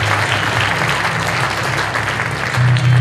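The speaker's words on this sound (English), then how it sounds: "Round of applause for Jeremy." An audience at a college illusionist show bursts into steady, dense applause for a volunteer, loud and continuous throughout with no speech over it.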